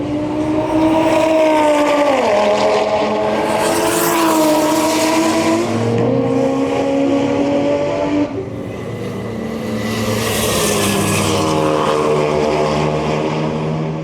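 A Barra-powered VK Commodore race car drives past in the left lane. A loud, sustained engine roar rises and falls as it changes gear, with two surges of bright, rasping intake and exhaust noise.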